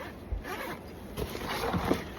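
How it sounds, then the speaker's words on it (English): Mesh zipper pouch on a fly fishing backpack being zipped, a few soft scraping zipper pulls close to the mic, fairly quiet with rustling between strokes. "we got zipper pouches, some nice mesh zipper pouches"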